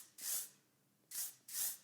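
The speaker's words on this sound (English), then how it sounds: "So it's a very lightweight spray" Three short hissing bursts of Ouai Memory Mist hair spray, close and clear, one longer spritz followed by a pause and then two quick sprays, with no talk.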